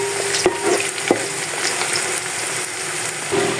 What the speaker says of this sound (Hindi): इसको भी हम प्याज के साथ अच्छी तरह फ्राई कर लेंगे ताकि इसकी भी खुशबू चावलों में आए।